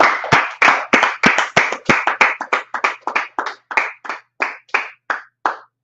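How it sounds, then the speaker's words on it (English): A steady run of sharp hand claps, one person clapping in a fast rhythm that gradually slows, close and loud with no talking. "Clap it up."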